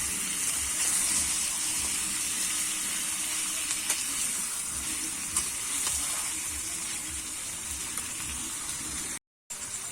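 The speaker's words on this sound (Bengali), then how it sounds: "কেটে রাখা টমেটোটা দিয়ে দেবো দিয়ে এখানে আবার কিছুক্ষণ নাড়াচাড়া করে নেব" Chopped tomato tossed into chicken in a hot pan, giving a steady loud sizzle and crackle of frying with soft scraping stirs throughout, briefly cut off near the end.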